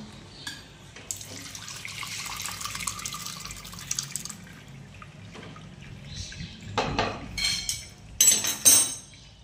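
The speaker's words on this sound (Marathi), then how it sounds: "दोन ते 3 पाण्याने छान असं धुवून घ्यायचं।" Water runs and splashes as strained curdled milk is rinsed in a cotton cloth, with a steady faucet flow and a few louder splashes and clinks near the end. No one speaks.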